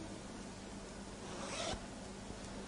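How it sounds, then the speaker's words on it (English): An invisible zipper on a flared skirt is drawn up in one steady, close rasping pull, ending with a slightly brighter zip near the top. "what I'll do now will be to zip it up completely"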